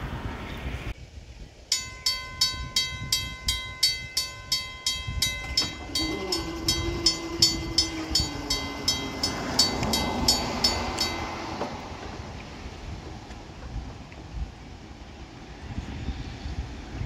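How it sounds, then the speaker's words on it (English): A train passes a railroad crossing at milepost 582 where the gates have malfunctioned, with a crossing bell ringing rapidly and steadily before a loud horn blast sounds over the rolling rumble of the train. "Hope everyone enjoyed the Ghost Train Express."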